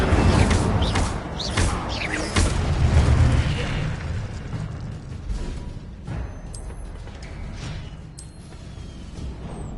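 Incendio fire spell cast in Hogwarts Legacy, a series of whooshing fiery bursts and booms, loud at first and trailing into a rumbling roar, with no speech.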